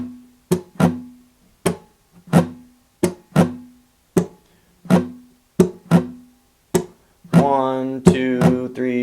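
An acoustic-style guitar plays a repeating pattern of down strums and percussive palm hits, crisp and close, in a steady rhythm before ringing strummed chords at the end.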